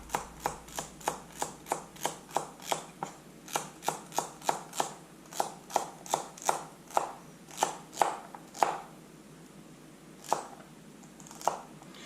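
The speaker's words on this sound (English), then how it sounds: "the edge and the blade is pretty much cutting it straight to the board" A knife with a 6,000 grit edge slices through mule deer meat down onto a cutting board, giving a steady run of about two dozen crisp, close taps, spaced evenly and then slowing toward the end.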